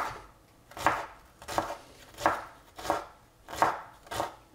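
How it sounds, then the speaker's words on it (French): Celery being chopped finely with a knife on a board, six crisp, evenly spaced strikes landing about every seven tenths of a second, close and clear with no talking. "Première chose, on va couper le céleri."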